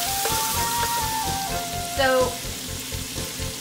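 Shrimp fry in a pan for shrimp pasta, giving a steady crackling sizzle, while a voice speaks briefly and faint tones drift through the background.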